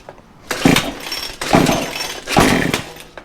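A Troy-Bilt weed eater's small two-stroke engine, loud and close, with three buzzing bursts that rise and fall as the throttle is pulsed, each lasting under a second.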